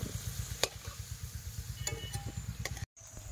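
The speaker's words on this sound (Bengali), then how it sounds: "পেঁয়াজ পুরো ফ্রাই হয়ে গেছে" Onions and potatoes fry in oil in a kadhai, a steady low sizzle with rhythmic stirring scrapes and occasional light metal clinks, close and moderately quiet.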